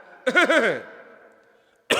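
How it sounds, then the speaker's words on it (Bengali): One harsh, close cough with a couple of rough bursts during a sermon, then a fading tail and a brief sound starting at the end. "বিনা ওজোরে কাশি দেওয়া"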